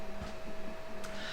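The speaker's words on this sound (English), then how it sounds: "the printer is in fact running right now" A 3D printer running in the background of a home workshop, a steady low mechanical hum with a faint tonal whine and soft periodic ticks and stepper pulses, quiet and continuous.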